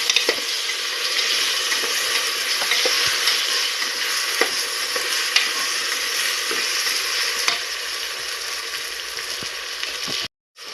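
Rice and dal being stirred and fried in a pan for dal khichdi, a continuous close sizzle with scraping spatula strokes, ending abruptly.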